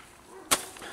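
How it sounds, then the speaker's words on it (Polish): A small, cheap, low-noise consumer firework shot bursts once with a short sharp crack and a brief crackle, fairly faint against a quiet background. "i dodatkowo mocny błysk cracklingu, dosyć głośny"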